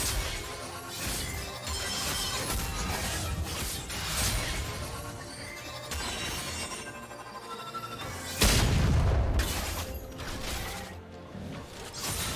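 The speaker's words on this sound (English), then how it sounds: "turret has been destroyed" A turret being destroyed in League of Legends, heard as shattering crashes and mechanical clatter over busy game sound, with a heavy low boom swelling past the eight-second mark.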